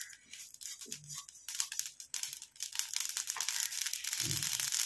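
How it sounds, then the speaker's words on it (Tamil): Small mustard seeds spluttering in hot oil in a pan, a faint, steady crackle of irregular tiny pops that grows denser and louder toward the end. "இப்போ தான் கடுகு கொஞ்சம் கொஞ்சமாக பொரிய ஆரம்பிக்குது."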